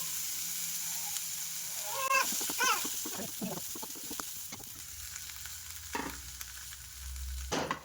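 Lentil dumpling paste ingredients being sautéed in a pan, with intermittent stirring scrapes and clinks over a low steady sizzle, fairly close and no talking.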